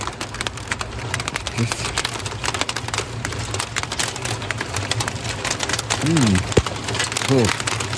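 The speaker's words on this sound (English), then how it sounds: "Here comes the hail again." Hail falls outdoors during a smoked pork ribs cook, a steady scatter of sharp ticks and patters, with a few brief vocal sounds near the end.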